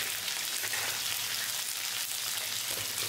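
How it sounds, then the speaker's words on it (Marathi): Mustard seeds crackle and sizzle in hot oil for a tempering: a dense, steady, close frying hiss runs unbroken throughout, with no voices. "आता ह्याच्यामध्ये मोहरी घालूया। मोहरी जरा चढती, कढीपत्ता"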